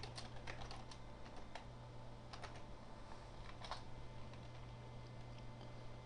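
Keys clatter on a computer keyboard in quick bursts as a keyword and message text are typed, faint and steady over a constant low electrical hum, with no voices.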